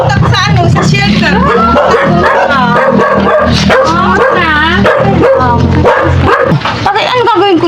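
A dog barks and yips repeatedly in an excited, rapid series, close and loud, mixed with whimpering and background chatter of people.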